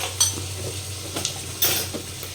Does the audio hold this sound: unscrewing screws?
no